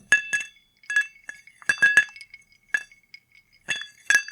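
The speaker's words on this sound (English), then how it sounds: "let me give our listeners a little listen to the ice in the glass" Ice cubes clink against a glass of sake on the rocks in a string of bright, close taps and rattles separated by short silences.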